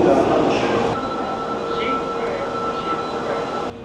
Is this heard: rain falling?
no